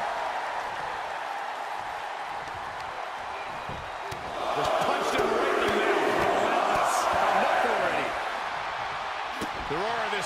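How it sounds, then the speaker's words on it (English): Wrestling arena crowd at a WWE Raw six-man tag team match, cheering and roaring steadily, then swelling louder around the middle and staying at a sustained loud pitch, with scattered shouts and thuds in the mix. "This crowd has been building, and they are at a fever pitch right now."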